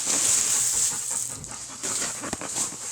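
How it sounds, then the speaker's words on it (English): A big, well-trained dog pants steadily nearby, its quick rhythmic breaths broken by a few soft whimpers and snuffles, with no talking. "Today I have a dog"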